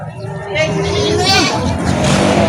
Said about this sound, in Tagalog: Malalaking kambing naman.